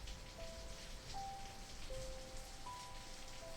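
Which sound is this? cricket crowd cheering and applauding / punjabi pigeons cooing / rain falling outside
rain falling outside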